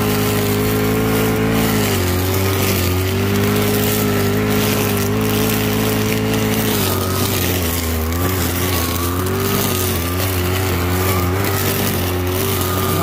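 A brush cutter with its trimmer line let out runs loud and close while trimming grass between landscape trees, its engine holding a steady whine that shifts pitch as the revs change.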